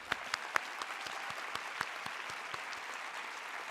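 An audience at a gun sense forum claps in a dense, crackling round of applause with a few sharper single claps, steady and somewhat distant.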